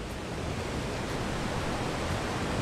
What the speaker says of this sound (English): I've just found a secret little waterfall.